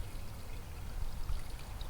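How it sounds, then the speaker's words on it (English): Solution is poured through a small funnel into a camper's fresh water system, producing a steady, close gurgling stream of liquid with no speech. "use our little funnel system and just pour it in"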